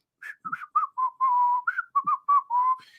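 A person whistles a short, wandering tune of about a dozen quick notes with brief gaps, close and clear, mimicking a casual look-away whistle.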